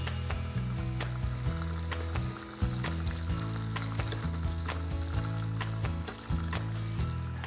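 Frying in oil in a pan, a young-cabbage dish, with a steady sizzle and repeated stirring scrapes carrying throughout, close and fairly loud, with no talk.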